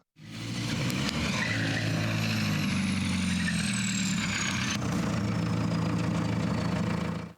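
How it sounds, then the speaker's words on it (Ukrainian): A 120-horsepower diesel engine at the rear of a Ukrainian-made buggy idles steadily close by, a low, even chugging rumble that runs throughout with a faint high whine above it. "Позаду у нас розташований дизельний двигун потужністю 120 кінських сил."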